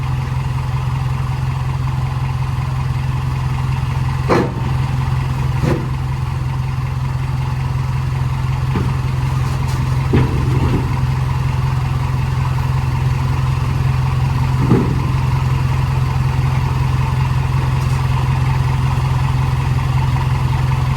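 A Kubota KX033 mini excavator's engine drones steadily and loudly up close as it climbs onto a dump truck, with a few sharp metallic knocks and clanks scattered through the run.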